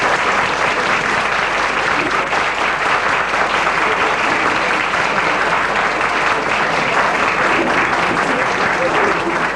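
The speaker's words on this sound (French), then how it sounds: "Nous pouvons les applaudir encore une fois certainement" An audience applauds a group of dancers, a loud, dense and unbroken ovation of many clapping hands, with crowd voices faintly mixed beneath.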